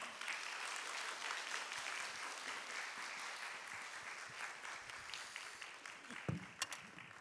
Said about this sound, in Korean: 우리가 박수로 환영하며 또 그렇게 초청하도록 하겠습니다